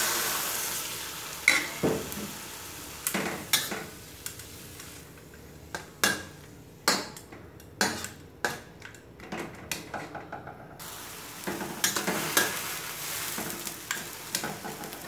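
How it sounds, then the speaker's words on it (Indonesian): Stir-fry of bitter melon and egg in a pan, Taiwanese style, with water being added: a steady sizzle under repeated clanks and scrapes of a utensil stirring against the pan, close and fairly quiet. "kita tambah air secukupnya"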